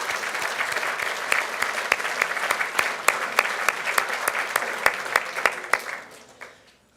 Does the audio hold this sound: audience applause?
yes